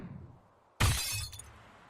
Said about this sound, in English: throw that right at the camera and make the camera just make glass shattering noises